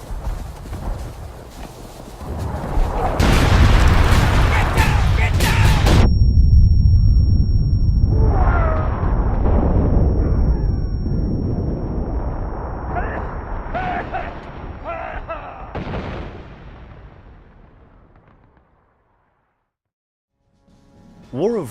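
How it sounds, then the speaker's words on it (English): Incoming artillery in the Civil War shooter War of Rights: heavy booming blasts and rolling rumbles crash nearby, followed by scattered crackling impacts and debris that fade to near silence, with a voice shouting early on. "Incoming artillery!"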